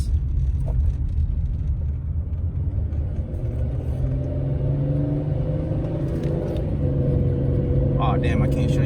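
Chevrolet Monte Carlo engine running steadily while the car drives, a loud continuous low rumble with rising whine as it shifts, someone talking over it throughout.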